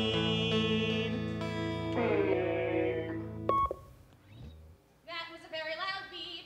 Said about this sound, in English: That was a very loud beep.